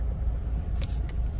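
A Ford Ecoboost car rumbles low and steady while driving in the snow, with a brief rev and a couple of faint higher whooshes over the heavy engine drone.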